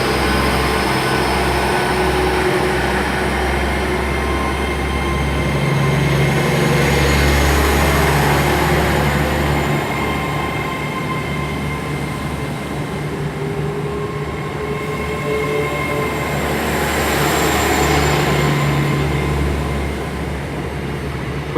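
A Class 800 train, unit 800-308, pulling out of Swindon station with a steady loud diesel hum and rumble, rolling wheel noise and faint squeals, close and continuous for about twenty seconds, with no voices.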